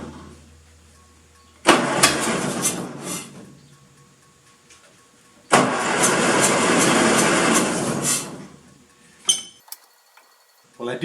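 A Massey Harris 30 tractor, newly freed of a stuck carburetor float after a long rest, cranks and catches twice, each start rising into a loud, rough rev before dying back, with a few clanks between.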